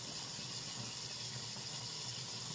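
Tap water runs steadily as the tip of a skincare tool is rinsed under it, a continuous close splashing gush with no talk.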